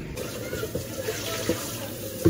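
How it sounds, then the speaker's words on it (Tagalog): Dishes from lunch washed under a running tap at a sink, a steady close rush of water with light clinks of plates and a splash near the end. "naghuhugas na naman tayo ng ating pinagkainan kaninang tanghali"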